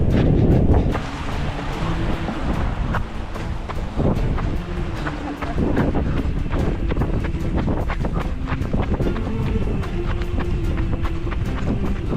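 Strong gusty wind on a mountain descent on the Tour du Mont-Blanc buffets the microphone with a loud, continuous roar and rustling, punctuated by sharp crackling bumps.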